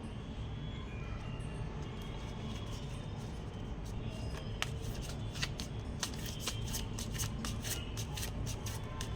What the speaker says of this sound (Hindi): And take out one more card.